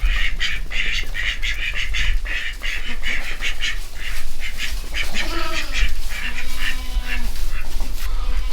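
Several small ducklings quacking continuously near a farm pen, a busy overlapping chorus of high peeping quacks and honk-like calls, loud and close with no talk.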